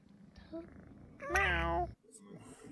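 A single drawn-out cat meow, clear and close, between quieter background sounds.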